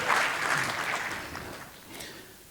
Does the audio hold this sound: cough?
no